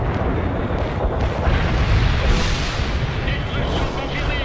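Dense, continuous artillery fire in the real-time strategy game World in Conflict, a roaring wall of booms and rumble that never lets up.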